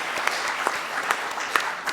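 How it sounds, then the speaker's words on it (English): A crowd applauds steadily for a couple of seconds, with a few sharper claps standing out from the dense patter. "please give a round of applause"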